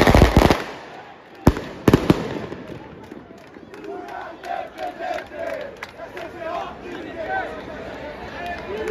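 Football fans of Paraná Clube outside the stadium before a match against Nacional: a few sharp firecracker bangs, then a dense crowd murmuring and rhythmic chanting at a distance, with someone talking over it.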